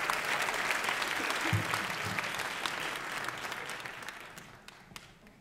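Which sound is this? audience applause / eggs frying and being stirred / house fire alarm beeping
audience applause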